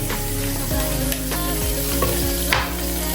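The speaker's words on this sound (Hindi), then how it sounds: "इसके अंदर हमने वेजिस और चिकन जो है वो फ्राई करना है" Vegetables and chicken fry in hot oil over a full flame, a steady loud sizzle with repeated scraping stirs and utensil knocks, close up and without any talk.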